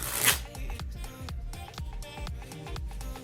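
Plastic playing cards shuffle in quick riffles, a crisp snapping flutter repeated several times close up, with no voices.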